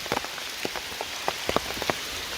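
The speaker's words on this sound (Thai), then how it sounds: "ได้ยินเสียงนี้ก็คือฝนนะไม่ใช่เอฟเฟกนะครับ" Rain on a misty mountain trail near the summit of Doi Pui, close drops striking surfaces in a scattered, irregular patter over a constant wet hiss, with no one talking.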